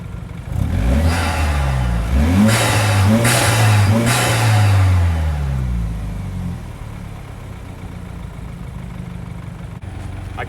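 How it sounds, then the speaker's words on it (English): Tuned, lowered BMW F30 revs up with a loud, rising intake roar that holds for a few seconds, then settles back to a steady idle hum. "I'll put it up here so you can hear the intake a little better."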